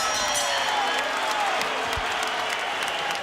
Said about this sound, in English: And the crowd's going to give him a big hand.